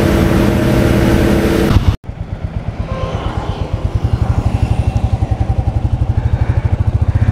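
A Royal Enfield Bullet 350 on a post-service trial ride: after a loud rushing start and a brief cut, the single-cylinder engine settles into a steady, close, rhythmic thump that quickens slightly as it pulls away.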